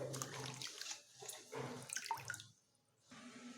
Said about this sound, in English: Once again, wash rest of greens.